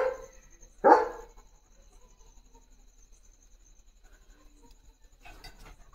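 A single far-off dog bark sounds once, faint and brief, against a quiet night background with crickets chirping, followed by a softer burst of distant noise.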